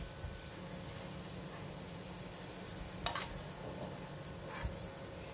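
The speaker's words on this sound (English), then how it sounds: "Garlic is nice and brown and crispy, so I'm just going to switch off the heat and take it out from the pan first." Garlic frying in a pan for a beef and broccoli stir fry gives a steady, close sizzle with a few sharp scraping clicks from stirring, and no talking over it.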